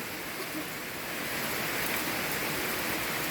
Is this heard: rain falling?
yes